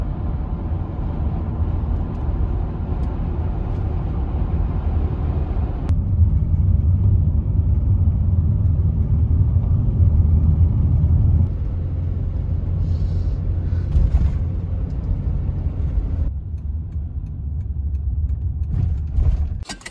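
A van driving on a road in the North Carolina mountains, heard from inside as a steady, loud low engine and road rumble that shifts in tone partway through, with no talking.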